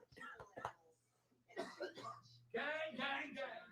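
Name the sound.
coughing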